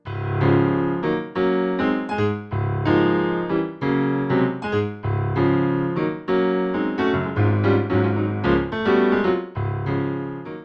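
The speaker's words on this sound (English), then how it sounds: "Grand Piano 2 is a brighter American grand piano, and it sounds like this." A digital piano's bright American concert grand sample plays a busy, continuous passage of chords and runs, crisp and full, with no talking.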